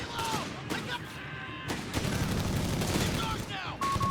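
Sustained .30 cal machine gun bursts and scattered gunfire from a Company of Heroes 3 battle, US forces against Wehrmacht, dense and continuous at mid distance with in-game voice callouts over the top.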